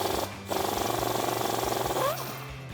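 A socket tool works loose a suspension bolt on a Jeep Wrangler JL, giving a rapid, buzzing mechanical rattle that stops briefly near the start, then runs steadily before tapering off near the end.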